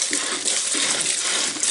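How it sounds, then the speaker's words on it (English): Water pours steadily into a container being filled for a meat brine, a loud, continuous splashing gush that lasts the whole moment with no talk. "We're going to fill that bad boy up with water."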